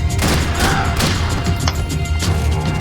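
Gunfire in the video game Max Payne 3 crackles in dense, rapid volleys with sharp cracks and impacts layered over a busy, loud background, continuous across the whole stretch.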